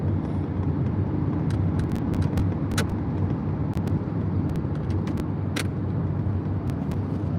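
Interior road noise from a car driving at night, a steady low rumble with faint clicks and ticks scattered over it, continuous and without talk.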